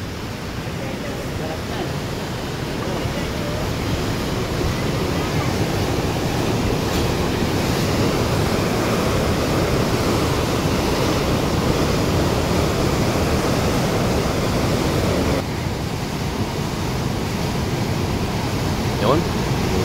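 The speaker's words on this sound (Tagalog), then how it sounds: "Lakas ng alon." Loud, continuous roar of heavy surf crashing nearby, a dense rushing wash that barely lets up.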